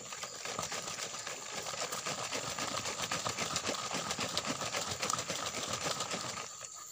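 A container of homemade soil fertilizer solution is shaken hard and steadily, making a fast, rhythmic sloshing rattle that runs for several seconds before stopping.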